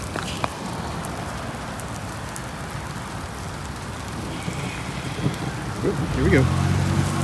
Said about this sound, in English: Okay, rain is getting harder.